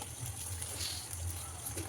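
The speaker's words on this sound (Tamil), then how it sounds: "ஒரு கிளாஸுக்கு தண்ணி வைக்கணும்" Water pours into a cooking pan for upma, a brief continuous splashing gush close by with a faint low hum underneath.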